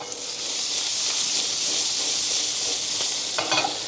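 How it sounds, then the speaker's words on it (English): White wine poured into a hot pan for lobster fettuccine, giving a loud, steady sizzle and steamy hiss throughout, with a few brief stirring clatters near the end. "I'm going to add some of my white wine to this"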